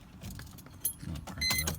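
Keys jangling and turning in the ignition of a 2004 Mercedes SLK 320 flood-damaged car, a few short close metallic clinks over about two seconds.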